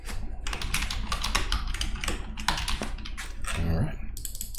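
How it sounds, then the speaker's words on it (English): Fast clattering keystrokes on a computer keyboard, close and steady, arriving in quick clustered runs with brief pauses. "Keyboard working."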